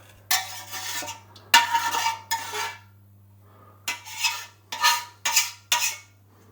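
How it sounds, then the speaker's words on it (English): A butter knife scrapes baked, peel-on apple sauce from the sides of a jar in a series of short, close metallic scraping strokes, grouped in quick bursts separated by brief pauses. "We just gotta scrape the sides a little bit."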